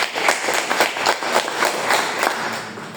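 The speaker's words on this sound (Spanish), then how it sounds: "Un aplauso para ustedes." An audience in a church gives a round of applause, a burst of close, steady hand claps lasting a few seconds with no talking over it.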